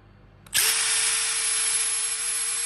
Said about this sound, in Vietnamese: Đây là khoan búa luôn nha.